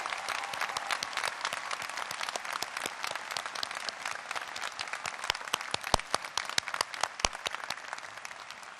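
An audience at a DePaul Law commencement gives student leaders sustained applause, a dense wash of many hands clapping that carries on steadily, with a few sharp individual claps standing out near the end.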